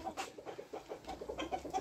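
A gallino indio rosón rooster clucks in a quick series of short, close calls, with no talk over them.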